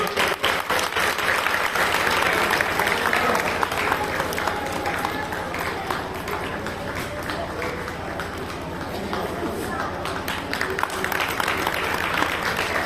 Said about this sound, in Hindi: अपने लिए दो से तालियां बजाओ।